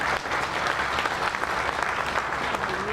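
Audience applause at a patriotic military tribute event, a steady dense wash of clapping that holds for the full stretch at moderate loudness with no voices on top.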